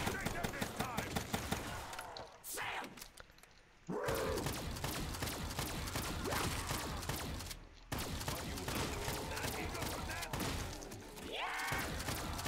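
Bursts of KRM-262 shotgun fire ring out in Black Ops zombies mode on The Giant map, with repeated loud close shots and heavy impacts in quick runs and short pauses.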